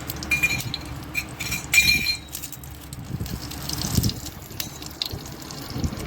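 Whole spices tipped into melted ghee in a cooking pan: light clinks and taps of spices and utensil against metal over a soft bubbling, sizzling background, fairly quiet and close.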